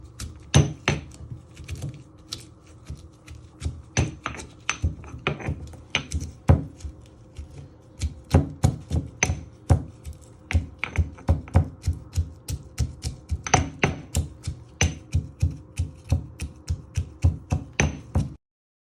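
A pestle pounds Thai green curry paste ingredients in a mortar. Dozens of hard, rapid thuds come close and loud in uneven bursts that run throughout, with no speech.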